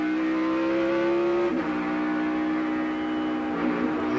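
Race cars at full throttle around Watkins Glen during a 2000 Cup race, their engines holding a loud, steady, sustained roar that wavers and dips briefly partway through before droning on.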